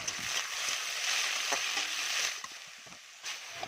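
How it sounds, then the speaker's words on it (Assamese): Onions frying in a pan with cumin, bay leaf and two dried chillies, tomatoes going in after, a steady close sizzle with occasional crackles and faint stirring scrapes, easing slightly toward the end. "আৰু পিঁয়াজ দি মই এইখিনি ভালকৈ ভাজি ল'ম।"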